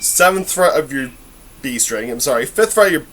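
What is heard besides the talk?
No distinct noise like a dog, phone or traffic.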